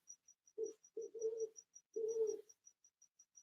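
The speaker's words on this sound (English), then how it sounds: "Do you hear the owl?" An owl calls outside an open window: a few soft, low hoots, some in quick pairs and one longer, over a steady, evenly pulsing insect chirp that runs throughout. The whole scene is faint and there is no talking.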